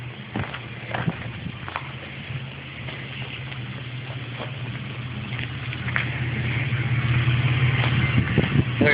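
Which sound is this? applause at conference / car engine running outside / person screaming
car engine running outside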